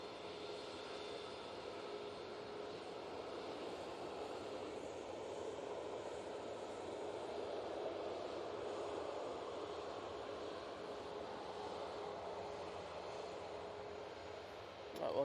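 An Aer Lingus airliner on final approach at Manchester Airport makes a faint, distant, steady jet roar that swells gently toward the middle and holds for the whole span.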